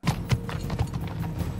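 Horse hooves clip-clop at a steady walking rhythm in a Game of Thrones episode, the regular hoof strikes clear and fairly close over a low background bed with no voices.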